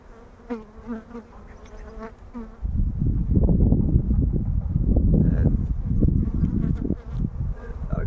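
Honeybees buzz in an opened beehive during inspection; a softer hum at first swells into a dense, loud, close buzzing that continues throughout, with no talk.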